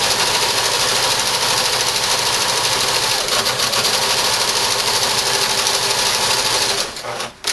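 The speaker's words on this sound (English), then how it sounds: "So we're just going to straight stitch right across." A sewing machine runs a steady straight stitch across the fabric of an eco shopping bag, a continuous loud mechanical whir that stops abruptly near the end.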